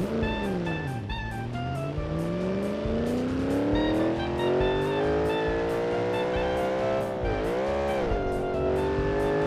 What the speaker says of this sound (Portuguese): e o motor dela continua funcionando